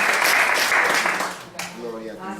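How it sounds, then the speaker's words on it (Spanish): A church congregation gives a strong round of applause during a Spanish-language service, the clapping loud at first and fading within a couple of seconds as a voice begins speaking. "Démosle un aplauso fuerte a nuestro Dios"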